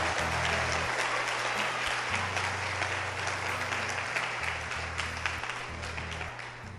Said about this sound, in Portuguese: Isso mesmo, pode aplaudir o Senhor.